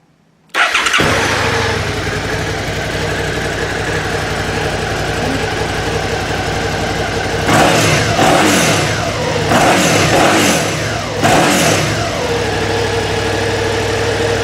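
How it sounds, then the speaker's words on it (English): A 2013 Suzuki Gladius motorcycle with its stock exhaust starts abruptly, then settles into a loud, steady idle, broken by three sharp throttle revs near the end, close up in a garage. "Most of the engine or noise that you are hearing is coming directly from the engine."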